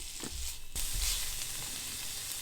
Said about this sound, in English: Onions and carrots. Stir that around.